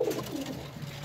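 Breeder pigeons coo softly in a short, low, murmuring burst, close by against faint background noise.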